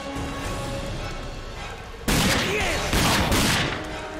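Enemy gunfire in the shooter Rage: after a quiet stretch, a sudden loud burst of rapid shots and blasts erupts, with a second volley close after, near and dense.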